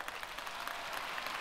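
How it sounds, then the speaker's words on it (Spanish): A church congregation applauding to welcome a new senior pastor, Andy Wood, with a steady wash of many hands clapping at a fairly faint distance, unbroken throughout. "Aplausos para Andy Wood"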